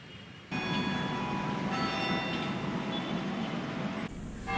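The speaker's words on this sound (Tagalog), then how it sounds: "Sa batingaw ng kampana ng Manila Cathedral" The Manila Cathedral bells ring out continuously with layered, resonant tones, heard at a moderate distance over a low background rumble.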